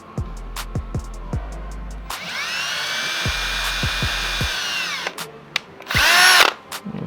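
Power drill boring through the latch switch of a 2005 Honda Odyssey sliding door, a loud close whine that holds for a few seconds, with short taps and clicks before and a final high burst.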